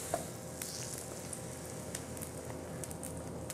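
Pancake batter sizzles in a hot pan on a crepe and pancake cooking set, a soft steady frying hiss with faint crackles and small pops, heard quietly and without talk.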